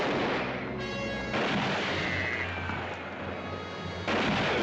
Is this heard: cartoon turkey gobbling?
no